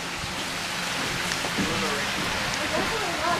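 Rain falls outdoors in Montana as a steady, close hiss that fills the whole stretch, with a faint voice briefly under it.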